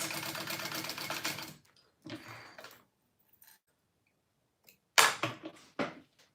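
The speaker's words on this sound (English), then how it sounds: "I'm going to sew this shut" A sewing machine stitching a fabric wristlet closed in short runs: a rapid whirring burst, then a pause, a brief second run, near silence, and a final few quick bursts, close and moderately loud.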